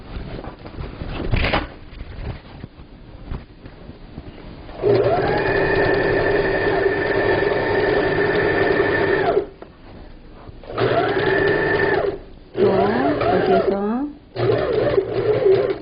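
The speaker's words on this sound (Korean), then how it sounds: "노루발을 내리고 가금질 하시면 됩니다" A sewing machine stitches a table cover for a low Korean dining table, running in loud steady bursts of several seconds each, with short pauses and handling noises between runs and no talking.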